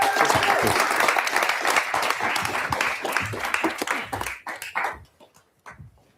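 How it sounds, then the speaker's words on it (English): A crowd applauds after a music performance, loud sustained clapping that thins out and fades near the end into a few scattered claps and faint voices. "a big round of applause for Harley"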